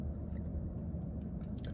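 Close, moist chewing and biting of a crunchy fried chicken wing in a dive restaurant, steady and continuous with soft crunches, and no talking.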